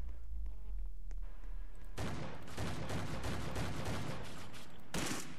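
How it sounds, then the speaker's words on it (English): Rapid, loud shotgun blasts in the Roblox sci-fi shooter Impulse erupt after a quieter opening and pile into a dense, continuous barrage, with one more sharp burst near the end. "We killed them from there with the shotgun."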